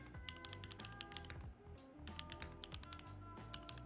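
Fast, uneven clacking of keys on a computer keyboard, with bursts of rapid strokes and brief pauses, close and fairly loud over a steady musical background.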